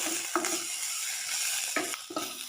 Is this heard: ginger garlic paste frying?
yes